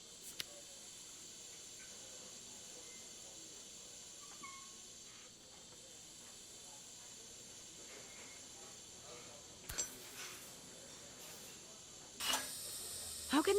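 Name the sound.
steam hissing from pipes in video game Assemble with Care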